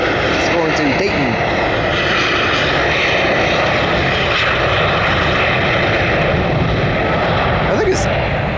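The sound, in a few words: NetJets Bombardier Global 7500 jet aircraft passing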